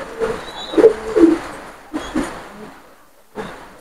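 A high-flying pigeon coos in a breeding loft at a farm near Fulbari Gate, Khulna, giving several soft throaty bursts separated by short quiet gaps, close by and moderately loud.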